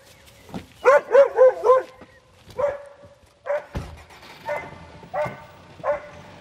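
A German Longhaired Pointer female barks in a wooded pasture setting, giving a quick run of four yips followed by several spaced single barks, close by and loud.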